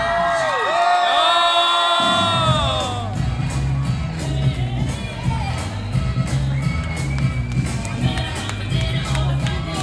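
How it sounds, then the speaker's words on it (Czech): A live audience at a Czech talent-show style stage event breaks into loud crowd cheering, whoops and shouts over music, sustained throughout after a brief quieter opening. "Aplaus."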